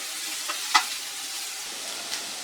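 Raw mango pieces sautéing in oil for a mango pachadi, a soft steady sizzle with a few light clinks of a stirring spoon, close by and alone with no talking.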